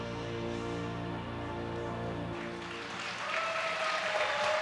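Audience applause at a figure skating show in Saskatchewan, following a skater's spins; steady clapping fills the whole stretch, with music fading out midway and the applause continuing alone.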